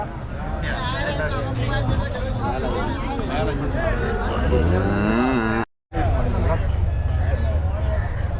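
Large heavy cows at a cattle market in Erode moo in long, loud, drawn-out calls, one after another, over a busy background of people talking and crowd babble.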